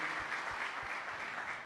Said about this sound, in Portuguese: Então dá um aplauso bem forte ao Senhor.